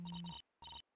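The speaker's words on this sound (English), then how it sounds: "Is that your phone, Karugo?" A phone rings in the Gyakuten video game, two short electronic ringtone bursts separated by a brief gap, clear and close.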